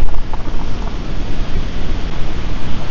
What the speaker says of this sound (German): Hier die Wellen peitschen gegen die Felsen.